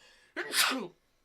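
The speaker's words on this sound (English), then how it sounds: "I'm sneezing." A single close, sharp human sneeze indoors, a brief burst with a quick intake and a loud explosive release lasting under a second, otherwise quiet.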